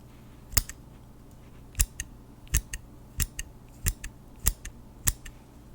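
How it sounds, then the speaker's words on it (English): Scissors snip close to the ear in a slow, even rhythm, about eight crisp metallic cuts each followed by a lighter click, in an otherwise quiet, hushed ASMR setting. "Let's go and give it a snip, shall we?"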